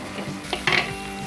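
Ginger garlic paste frying in a pan for a restaurant-style mushroom curry, with a spoon scraping and clinking against the metal over a soft sizzle. No one speaks.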